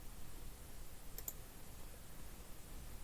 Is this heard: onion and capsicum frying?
no